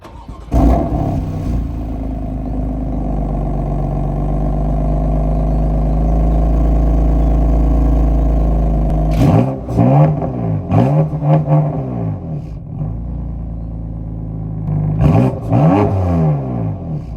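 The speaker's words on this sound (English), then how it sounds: "I'll give you a little cheeky rev" A BMW M4 F82 in Sport Plus with its exhaust valves open holds a loud, steady rev up close for several seconds, then gives a few shorter throttle blips that rise and fall.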